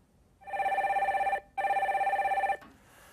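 A telephone rings for an incoming call-in on a radio show, two loud electronic trilling bursts with a brief gap between them, close and clear before cutting off.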